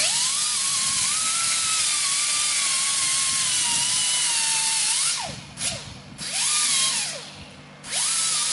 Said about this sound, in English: we're going to go ahead and cut the bolt off so it's not as long